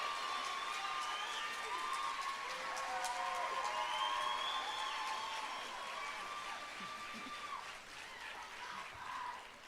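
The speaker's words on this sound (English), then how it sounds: "Now give all a round of applause." An auditorium crowd at a Lawton Public Schools celebration applauds the honored teachers, with dense, steady clapping and scattered cheers holding loud for most of the stretch before easing slightly near the end.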